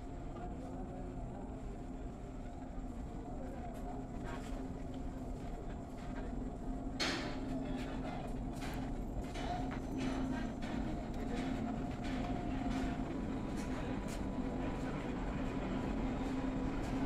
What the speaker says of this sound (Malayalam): നാഗർകോയിൽ നിന്നും പനവേൽ വരെ പോകുന്ന ഓണം സ്പെഷ്യൽ ട്രെയിൻ മൂന്നാമത്തെ പ്ലാറ്റ്ഫോമിലേക്ക് അല്പസമയത്തിനുള്ളിൽ എത്തിച്ചേരുന്നതാണ്